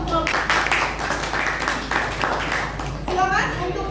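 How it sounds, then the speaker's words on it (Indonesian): Students in a classroom give a short round of clapping for a presenting group, quick uneven hand claps mixed with children's chatter, fairly close in a small room. "Kita beri tepuk tangan dulu untuk kelompok."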